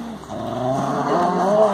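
Two dogs growl during a tug-of-war game, a continuous low rumbling snarl that swells and stays close and loud for under two seconds with no talking.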